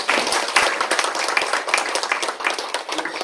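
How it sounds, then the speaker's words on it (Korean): A modest crowd in a hall gives a round of applause for a cleaning worker, with distinct, fairly close individual claps forming an uneven, lively patter throughout. "박수하겠습니다"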